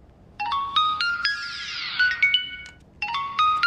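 A Memteq DZ09 smartwatch plays its find-my-watch ringtone, a loud, close electronic melody of quick stepped beeps that repeats after a brief pause.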